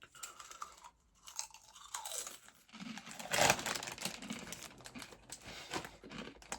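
Crunchy crisps being bitten and chewed alongside a pint of IPA beer, soft close crunches and crinkling of a packet in short irregular bursts at low volume.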